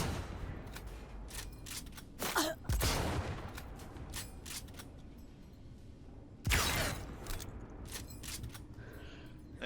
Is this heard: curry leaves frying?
no